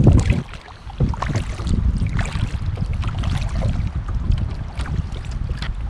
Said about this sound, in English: I'll wait till this wind calms down before I try and talk